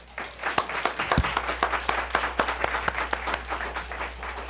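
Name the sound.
studio audience applause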